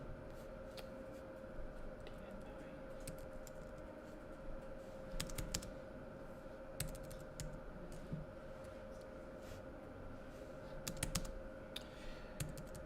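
Typing on a computer keyboard produces soft, irregular clusters of key clicks in a quiet room, faint and continuous with no voices.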